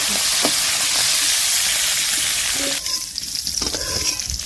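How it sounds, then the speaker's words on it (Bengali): Shrimp lightly frying in hot oil in a pan, a steady close sizzle and hiss throughout that shifts and dips partway as the pieces are moved, with no talk. "চিংড়ি মাছ দিয়ে দিচ্ছি তেলের উপর চিংড়ি মাছ হালকা করে ভেজে"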